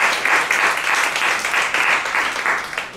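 A church congregation at a Saturday worship service applauds together, producing dense, sustained clapping that fills the room steadily for a few seconds with small surges and no voices rising above it.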